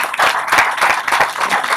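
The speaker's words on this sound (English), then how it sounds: "I think that deserves a round of applause" An audience at a launch event bursts into applause, a dense, even wash of clapping from many hands that holds steady for a couple of seconds.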